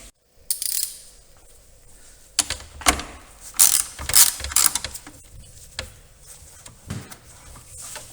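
A ratchet on a 10-inch extension loosens a 13mm battery hold-down bolt on a Volkswagen Golf Mk4, giving close, bursty mechanical clicking in short runs of ratcheting with pauses between them.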